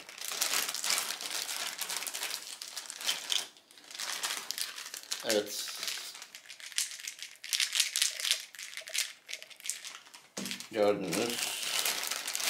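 A plastic bag holding Fisher-Price play mat toys is opened, crinkling continuously and close by, with crisp crackles and brief squeaky toy tones, while a voice speaks briefly.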